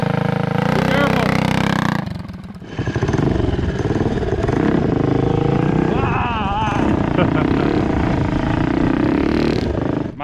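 A mini bike fitted with a 225cc race engine runs a warm-up lap, its small engine buzzing loud and steady close by with rising and falling revs, and voices talking over it.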